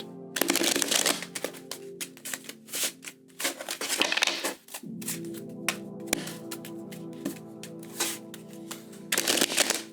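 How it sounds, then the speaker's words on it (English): A deck of tarot cards being shuffled by hand, several bursts of riffling and flapping with slapping pauses between, close and crisp, no speech. "we're going to do 3 shuffles"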